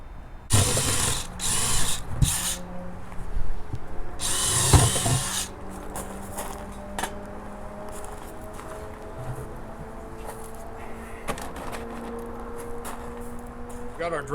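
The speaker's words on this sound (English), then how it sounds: "drill multiple drainage holes in this container" A power drill whirs in a few short bursts, boring drainage holes in a plastic container, then stops, leaving quieter background noise and a voice speaking.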